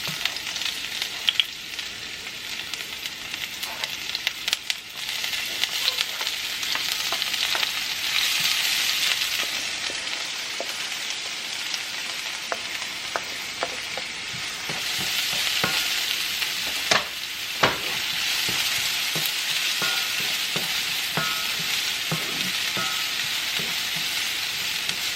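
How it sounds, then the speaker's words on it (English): Vegetables sauteing in heated olive oil in a pot, a steady close hiss of frying with scattered pops and occasional utensil scrapes throughout, no voices. "Just saute our veggies, and then I will add my ground beef."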